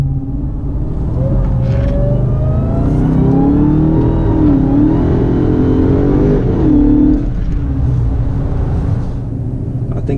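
Dodge Hellcat launching at full throttle, the engine roaring loud and close with a sustained rising rev that climbs through gears for several seconds before easing off.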